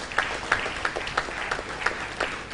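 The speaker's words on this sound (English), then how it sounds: "can we have a round of applause to our, again, one more global sponsor" An auditorium crowd at a WordCamp Bangalore gathering claps for the event's global sponsor GoDaddy, a moderate, fairly sparse applause with some distinct rhythmic claps standing out, no talking over it.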